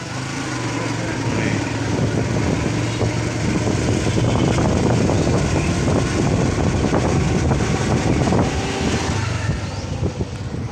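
A motorcycle riding home from a fair, its engine droning steadily up close beneath heavy buffeting wind noise on the microphone, loud and unbroken throughout.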